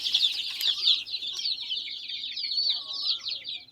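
A group of free-range village chickens in a nursery pen clucking and chattering continuously, fairly close, with a few brief noises mixed in.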